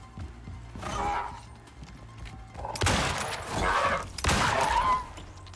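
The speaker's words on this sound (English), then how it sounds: "I hear just some gunshots." Bursts of gunfire in the video game Icarus, a few sharp loud volleys separated by pauses, with clattering effects between them and no talking.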